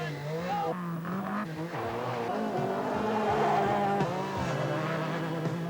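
A rally car runs a timed special stage, its engine revving and shifting pitch steadily throughout with rising and falling tones, loud and close, no talk.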